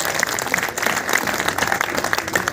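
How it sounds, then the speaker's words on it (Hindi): Applause from an audience welcoming an education minister at an honour ceremony in a community hall, steady dense clapping throughout with faint crowd murmur. "ऐसे शिक्षा मंत्री का जोरदार तालियों से स्वागत"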